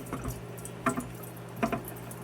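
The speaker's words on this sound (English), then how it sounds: "I'm going to take the fuel tank here and I'm going to pour the fuel out of the bottom side there." Fuel pours and drips out of the underside of a Honda EZ1800 generator's fuel tank, a close, quiet liquid trickle with a few distinct splashing drip bursts.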